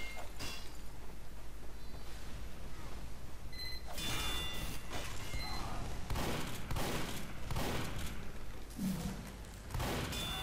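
Rapid automatic fire from a Team Fortress 2 sentry gun, dense and continuous for about ten seconds with sharp bursts and booms layered in, loud and close throughout.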